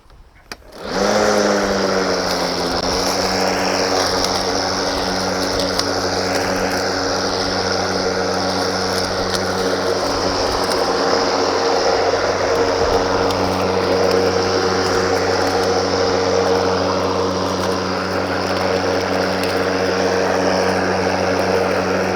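A Milwaukee M18 Fuel cordless lawn mower starts up and runs steadily with its deck lowered two notches, giving a loud, continuous motor and blade whir with a constant hum throughout and no talking.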